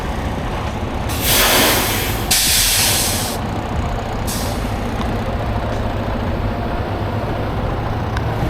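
Air brakes being set on a truck stuck in a roadside ditch during a winch-out: two loud, sharp hisses in quick succession, then a shorter burst, over a steady diesel engine idle.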